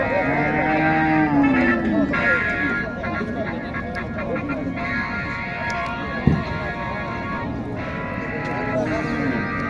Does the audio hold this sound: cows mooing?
yes